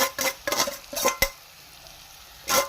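A spoon scrapes and stirs grated coconut into cooked snake gourd in a pan, in several quick strokes followed by a pause and one more stroke, close and clear.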